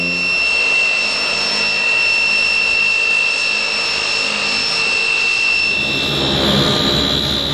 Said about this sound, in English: plenty of ear-piercing Dart engine starts